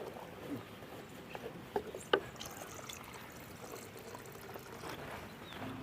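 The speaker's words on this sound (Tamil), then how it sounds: "இதுக்கு மேலே நீங்கள் வேணுங்கிற தண்ணி ஊற்றிக்கலாம்." Water trickles and pours into a pot of drumstick leaf soup, a soft, faint liquid splashing with a few small clinks, quiet and close with no talking.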